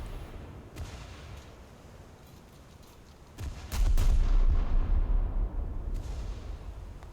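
Naval guns fire in a naval video game, with a few distant booms early on, then a heavy, loud salvo that rolls on as a sustained low rumble.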